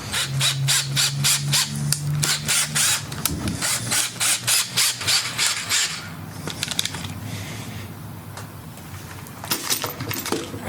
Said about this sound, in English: What you're doing is you're cutting and establishing a thread in the hole.